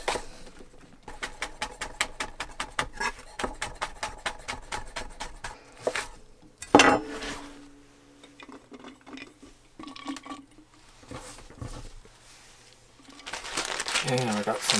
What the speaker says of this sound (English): mince this up